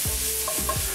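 Carrots cooking in olive oil, a steady hiss of sizzling with a few low scraping stirs in quick succession, close and without speech.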